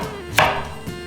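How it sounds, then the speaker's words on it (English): A couple of crisp knife chops strike a board as an onion is chopped, the first sharper than the second, over a quiet steady background. "Peel the onion and start chopping it."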